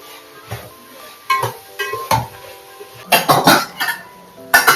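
Vegetables being sautéed for a biryani-style dish in a home kitchen, with scattered scrapes and clatters of a spatula stirring in a pan and a soft sizzle, close and without talk.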